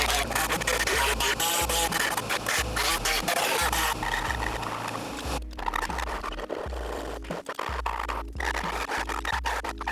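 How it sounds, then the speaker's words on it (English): Pneumatic air saw cutting to enlarge a hole in a metal firewall plate, a loud, dense, continuous rasping buzz with an air compressor running, steady throughout with brief dips in intensity. "we're gonna use the air saw to enlarge this hole real quick"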